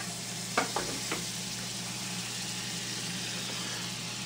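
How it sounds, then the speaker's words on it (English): A tablespoon of butter hits a fully hot omelette pan and sizzles, a steady hiss filling the clip after a few soft clinks near the start, close and even with no talk. "Now with the plate fully hot, another tablespoon of butter goes in."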